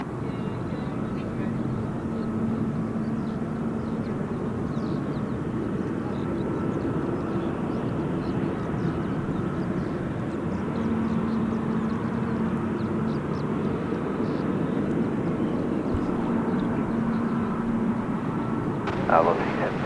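A Virgin Australia Boeing 737 on approach to land at Gold Coast Airport gives a steady, broad jet roar that holds loud and even throughout, while a voice talks over it.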